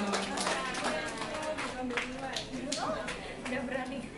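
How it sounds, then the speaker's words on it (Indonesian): A group of people claps together after a handwashing-steps session, the patter running steadily under overlapping voices and chatter throughout. "Oke, tepuk tangan untuk kita semua."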